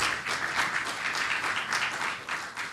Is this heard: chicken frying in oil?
no